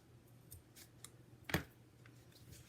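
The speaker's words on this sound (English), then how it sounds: "Then I'm going to trim these just a bit." Scissors trimming small paper craft pieces: a few quiet, crisp snips spaced irregularly, with one louder cut near the middle, close and otherwise quiet.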